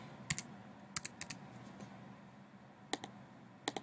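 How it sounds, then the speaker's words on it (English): Username typed on a computer keyboard at a student website login: a few quick clusters of sharp key clicks with pauses between, close and fairly quiet, no talking. "So you click onto the username, obviously, and type in your username,"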